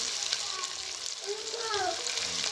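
Masala-coated fish sizzles in a hot pan just after being flipped, a steady close frying crackle with bubbling hiss running throughout the short stretch.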